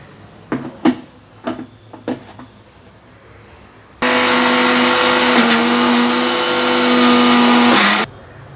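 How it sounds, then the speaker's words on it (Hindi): A few sharp knocks and clatters, then a loud electric mixer grinder grinding lentils for shami kabab whirs steadily for about four seconds before stopping abruptly. "मिक्सी के जार से अच्छी तरह पीस लिया है"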